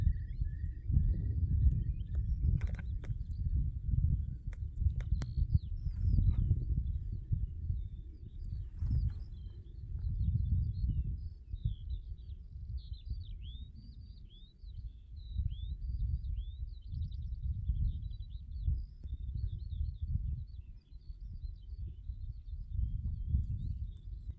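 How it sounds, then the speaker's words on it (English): Birds sing on barren upland moorland, with steady thin chirps and trills heard faintly over a constant low wind rumble throughout. "But then you hear the birds."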